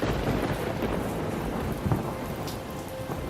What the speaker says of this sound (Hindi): ये बारिश तो रुकने का नाम नहीं ले रही